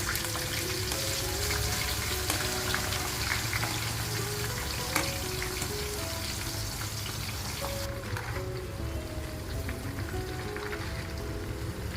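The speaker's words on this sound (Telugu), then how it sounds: "నూనె వేడెక్కిన తర్వాత ఆ తరిగిన చిప్స్ లాగా తరిగిన దొండకాయని నూనెలో వేసేసేయండి" Thinly sliced ivory gourd, cut like chips, fries in hot oil in a pan, producing a continuous moderate sizzle and bubbling hiss that holds steady from start to finish without speech.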